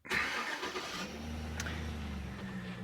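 A Hummer H3T engine cranks and catches, then settles into a steady low idle, heard close and alone.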